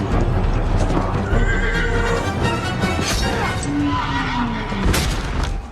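A horse whinnies amid pounding hooves and crashing battle noise in a film, loud and busy, with distant shouting underneath.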